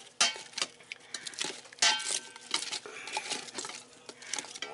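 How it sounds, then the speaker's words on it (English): A spoon stirs salt and spices inside an Instant Pot, giving faint, close metallic scrapes and clinks in an irregular rhythm, quiet throughout. "Let me stir this up."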